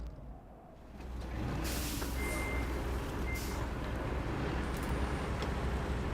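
Dump truck reversing in the RoadCraft video game at a sand quarry, steady low engine rumble with a faint backup beep pulsing over it, no talking.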